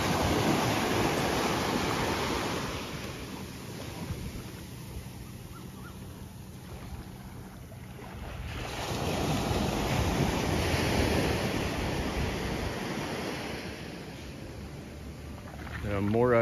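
Steady wash of ocean surf rolling onto Sunset Beach in Khao Lak, Thailand, with wind buffeting the microphone and a brief swell of louder water midway.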